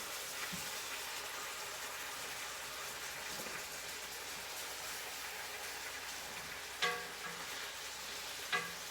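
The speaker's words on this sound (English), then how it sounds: "I'm going to give my pan a little bit of stir down there." Oxtails sizzle in a hot pan in a continuous crackling fry, while stirring adds scrapes and two sharp utensil knocks near the end.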